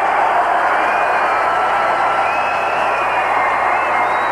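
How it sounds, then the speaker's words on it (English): A large football stadium crowd at the 1985 Philadelphia Eagles at Minnesota Vikings game gives off a steady, loud roar of cheering that holds unbroken throughout, with no distinct voices standing out. "Crowd's getting into it."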